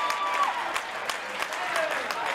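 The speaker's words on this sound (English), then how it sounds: "The crowd goes wild for Philip Michael." Wrestling fans roar and applaud steadily after a high-flying rolling senton outside the ring, a dense wash of clapping and cheering with sharp individual claps and whistles, while a commentator speaks over the crowd.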